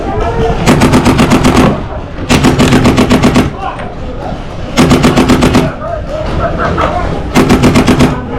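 Paintball guns rattle off in rapid bursts during an outdoor capture-the-flag game, four clusters of quick pops with brief gaps between them, loud and close, with some faint voices in the background.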